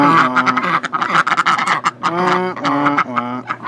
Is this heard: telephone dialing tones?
no